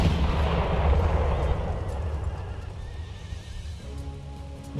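Colonial light cavalry charging an artillery position in Empire: Total War, with horses whinnying and hooves pounding over a dense battlefield roar and cannon fire, loud and steady before easing slightly.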